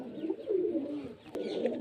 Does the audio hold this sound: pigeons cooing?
yes